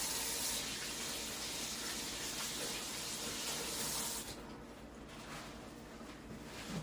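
Water runs steadily from a kitchen tap during handwashing after handling raw chuck steak, a constant rushing stream that softens and drops lower partway through as the hands move under it, with no talking.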